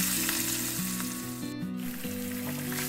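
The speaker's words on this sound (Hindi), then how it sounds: "फिश हेड एंड टेल को हम अच्छे से डार्क ब्राउन होने तक फ्राई करेंगे।" Fish head and tail fry in hot oil in a wok, giving a loud, continuous sizzle that stays close and steady throughout, with some tonal background sound and no voices.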